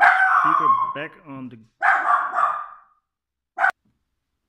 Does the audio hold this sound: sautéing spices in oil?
no